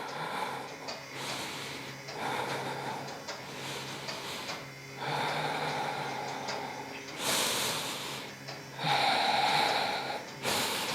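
Slow, deep breaths drawn in and let out during a yoga low lunge, several long airy swells rising and falling at close range with no talking over them.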